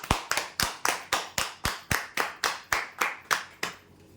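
Rhythmic clapping in a steady beat, about four sharp claps per second, loud and close, rewarding a prize winner at a lottery-style draw event, ending after roughly four seconds.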